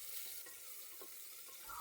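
A quiet, steady sizzle of spices and onions frying in hot oil, with faint scraping stirs now and then.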